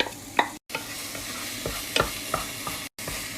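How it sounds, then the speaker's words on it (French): Onions tipped into a saucepan with pressed garlic and olive oil, a soft sizzle with scraping stirs and utensil taps, faint and close, broken by two brief cuts to silence. "Et là, on rajoute les oignons."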